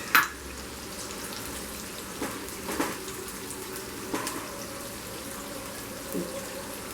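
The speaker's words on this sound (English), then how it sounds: "It will take some time for the onions to get brown, light brown in color." Onions for biryani fry gently over a low flame, a soft continuous sizzle marked by an early clatter and a few light scraping stirs spaced through the clip; close and moderate in level, without voices.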